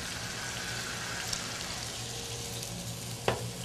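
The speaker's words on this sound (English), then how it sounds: "We got our oil cooking the vegetable." Vegetables cooking in oil on low heat: a soft, steady sizzle and crackle, close but fairly quiet, with a brief utensil clack near the end and no speech.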